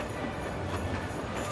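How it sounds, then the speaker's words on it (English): Passenger train riding between Anaheim and Los Angeles at Christmastime, a quiet steady rumble of the railcar with faint rattles throughout the short stretch. "let's enjoy a train ride during the best time of the year"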